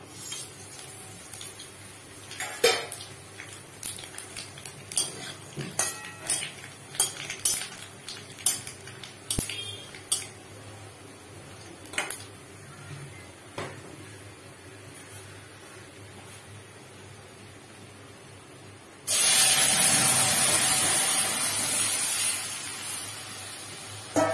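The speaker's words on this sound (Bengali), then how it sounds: "তো তেল গরম হয়ে গেছে, দেখো আমি এবারে ফোড়নটা দিয়ে দেবো। তেজপাতা, কালো জিরা, শুকনো লঙ্কা।" Bay leaf, nigella seeds and dried red chilli hit hot oil for tempering: light clinks and taps of utensils first, then a sudden loud, sustained sizzle and spatter that slowly eases.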